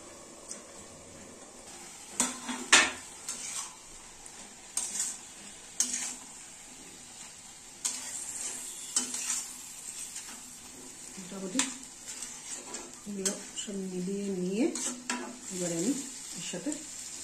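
Eggplant fries in a pan with turmeric, green chili and spinach as mixed vegetables cook, giving a faint sizzle broken by stirring scrapes and clinks of cookware, while a voice speaks quietly at times.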